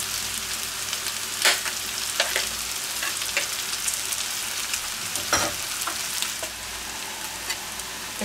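Mixed vegetables frying in butter in a pan for a homemade gyros skillet make a continuous close sizzle, broken by several sharp scrapes and clacks of a spatula stirring at irregular intervals.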